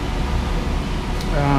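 Inside a Red Ribbon bakery store in the Philippines, the air conditioning gives a steady, even hiss and hum that fills the room, with a voice talking over it near the end.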